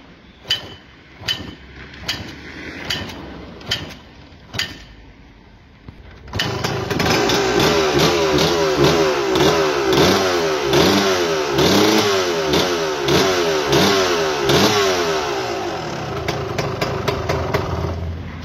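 A strong two-stroke motorcycle engine with a freshly rebuilt motor sputters through several brief start attempts, then catches and runs loudly close by, revving up and down in a rapid, crackling rhythm.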